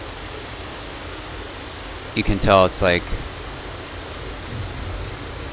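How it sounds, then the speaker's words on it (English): In the X-Plane 12 flight simulator game, heavy rain makes a steady hiss throughout, with someone briefly talking over it partway through. "really raining hard"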